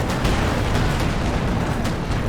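Tank cannon fire and explosions in the strategy game Company of Heroes 2, a dense, loud wall of booming blasts and rumbling impacts striking a German heavy tank headquarters, with no talking.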